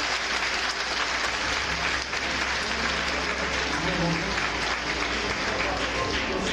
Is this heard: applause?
yes